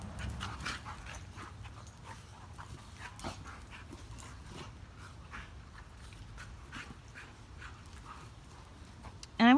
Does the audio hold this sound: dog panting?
yes